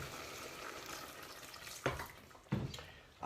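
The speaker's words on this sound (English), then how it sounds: "Might put a bit more water in there" Water poured from a container, a soft liquid trickle that swells into two short splashing bursts near the end, fairly close and quiet, with no talk over it.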